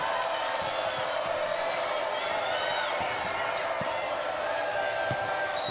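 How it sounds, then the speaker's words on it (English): A women's college basketball crowd at Carmichael Arena roars steadily and loudly throughout, with scattered whoops, shouts and a few ball bounces and squeaks beneath the din. "And the crowd coming to life here at Carmichael."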